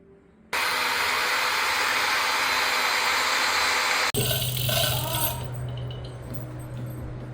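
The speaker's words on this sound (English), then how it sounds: "You're just screwing some more holes in?" A power tool drives screws into holes on a building site where windows and beams are going in, a loud continuous whirring drone for several seconds that cuts off abruptly into lower machine hum and background noise.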